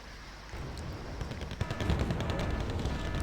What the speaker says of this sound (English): Now they're actually dropping the bombs